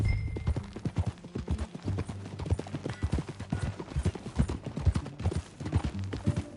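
Horse hooves clip-clop in a steady riding rhythm in Red Dead Redemption 2, close and clear over a low ambient game background with faint music.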